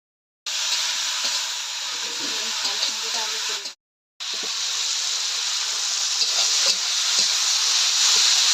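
Vegetable stalks fry in oil in a pan for a pointed gourd and fish-head curry, a loud, dense, continuous sizzle with stirring scrapes, broken by a brief silent gap midway.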